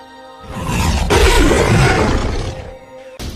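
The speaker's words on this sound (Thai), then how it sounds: "อยู่ๆก็มีเสียงคำรามลั่นจากเสือลายพาดกลอน" A striped tiger in a jungle drama scene gives one long, loud roar that swells in and holds for about two seconds before trailing off, ending with a short sharp burst.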